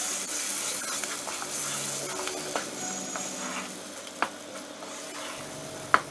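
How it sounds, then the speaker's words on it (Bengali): Lentil paste for dhokar dalna is stirred over high heat, a soft steady sizzle with light scraping and a few sharp clicks of the spoon against the pan. "এই ডালটাকে জোর আঁচে নাড়তে থাকবো যতক্ষণ না ডালটা শুকিয়ে যাবে।"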